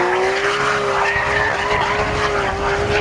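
A naturally aspirated Porsche 911 GT3 RS screams at high revs on a race track, its steady engine note sustained across the whole stretch with tire squeal and skidding noise mixed in, loud and close.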